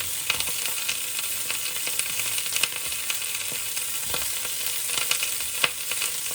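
Sausages and red onion fry in a pan, a constant close sizzle broken by frequent clicks and scrapes of turning and stirring, with no voices.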